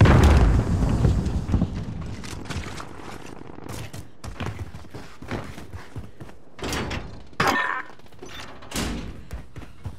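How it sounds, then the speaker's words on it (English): A grenade thrown and exploding in Call of Duty: Modern Warfare, a loud burst followed by rumbling, thuds and sharp cracks of gunfire in the game mix, with no clear talking. "Grenade out."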